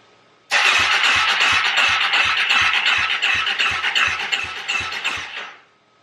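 A Polaris Predator ATV engine cranking over without catching: a steady rhythmic starter churn, loud and close, for about five seconds before stopping, with no voices.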